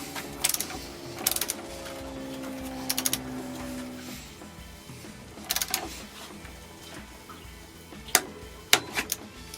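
A torque wrench tightening the 22 mm speedometer drive nut to 110 Nm on a Yamaha XTZ 750 Super Tenere: short bursts of clicking ratchet, several spaced clusters, close, over a quiet workshop background.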